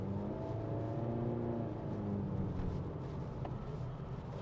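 A 2025 Honda Amaze with a CVT gearbox cruising in drive mode, heard from inside as a steady low engine drone with a smooth rising tone and soft road rumble, no talking.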